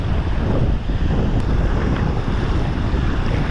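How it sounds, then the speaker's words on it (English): Strong wind roars across the microphone on a lakeside beach during bass and catfish fishing, a loud, steady, full-band rush with waves mixed in and no speech. "But the wind's gonna be pushing my lure."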